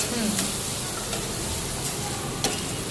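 Finely chopped onion sizzles in a little oil in a kadai, a loud, steady close frying hiss with a few light clinks of stirring.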